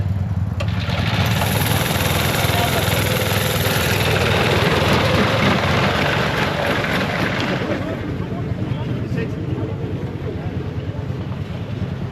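A snowmobile engine runs steadily close by at a snowmobile show, a loud continuous drone that eases slightly partway through, with someone talking over it.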